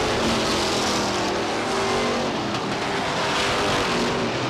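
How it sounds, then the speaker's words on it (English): Race cars roar down the back straightaway of the Star Speedway oval on the final lap, a loud, dense, unbroken engine drone that swells slightly as the pack passes, with no voices over it. "Down the back straightaway, Sands the leader, Barrett running second"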